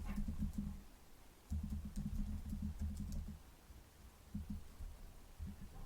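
Rapid clicking of keys on a computer keyboard, typed in short bursts with brief pauses, close by against a faint background hiss.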